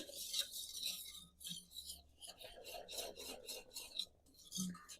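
A spoon stirs white sauce with black pepper in a pan over a traditional desi clay stove, making soft, rhythmic rasping strokes in short bursts with brief pauses, close and quiet, with no speech.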